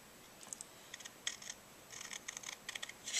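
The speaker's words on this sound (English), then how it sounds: "I think I'll go ahead and trim this up now." Scissors trim paper for a skinny pocket mini album journal. Several short bursts of crisp snipping sound close by but fairly quietly, in irregular clusters, with no talking.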